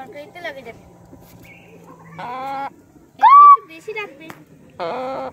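A chicken being held down in a Sundarbans village squawks and clucks in loud, harsh bursts, close up, between people talking.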